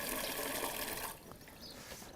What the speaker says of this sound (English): Just going to pour that in there and just give it a little bit more water just to stir it up a bit.